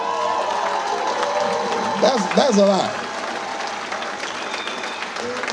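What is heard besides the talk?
audience applauding and cheering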